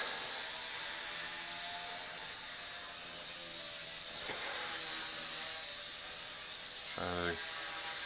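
A Hisky HCP60 RC helicopter's rotor spins up for flight, a steady high-pitched whine holding at close range throughout, with a brief rising buzz near the end.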